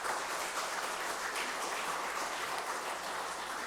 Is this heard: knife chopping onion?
no